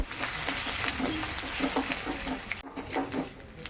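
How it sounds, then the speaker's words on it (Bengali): Ginger fries in a pan of hot oil with cinnamon, bay leaf, dried red chili and panch phoron, giving a close, continuous sizzle with soft stirring scrapes and a brief dip near the end. "আদাটা আমি ভালো করে ভেজে নে"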